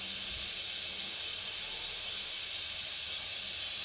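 Mustard oil going into a hot kadhai for a homemade vinegar recipe with garlic, dried red chilli and asafoetida, giving a steady broad hiss that holds evenly throughout, with a faint low thump near the start.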